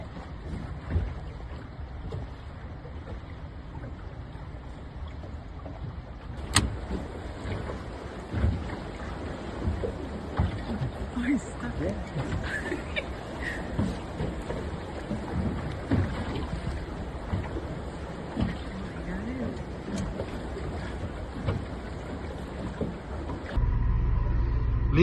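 A fishing boat motors across open sea off the Labrador coast, heading from Mackeral toward Williams Harbour. Its engine drones steadily under wind buffeting the microphone and water splashing against the hull, with a brief knock partway through.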